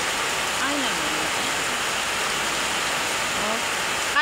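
Steady rain falls on a rural farmyard where a goat is kept, a dense even hiss filling the scene throughout. Faint, brief voice-like sounds surface over the constant patter.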